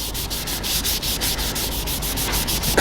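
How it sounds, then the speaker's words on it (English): A turned wooden crank-top mill spins on a lathe while sanding sealer is rubbed onto it, giving a close, steady abrasive hiss with a regular pulsing beat from the rotation and no talking. "This is just a bit of sanding sealer before I polish it."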